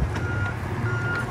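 A truck backing up sounds its reversing alarm, steady repeating beeps over a low engine rumble, fairly close and loud with no talking.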